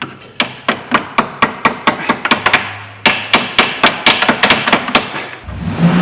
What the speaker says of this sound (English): I'm just going to whack that securing clip out of the way.